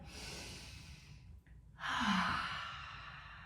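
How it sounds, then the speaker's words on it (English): A slow, deep breath drawn in during a gentle beginner's yoga flow, a soft airy rush that swells midway and fades, heard close and alone against quiet room tone. "Big deep breath."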